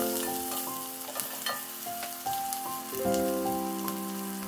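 Turmeric powder being stirred into a frying pan mixture for masala dosa filling, a loud dense continuous sizzle with spoon scrapes throughout and a steady tonal hum underneath, close.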